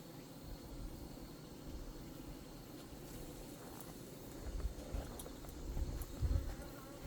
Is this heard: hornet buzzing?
yes